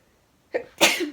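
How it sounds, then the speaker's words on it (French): A single close, loud sneeze with a short intake before the burst, alone in a quiet room. "je vais éternuer."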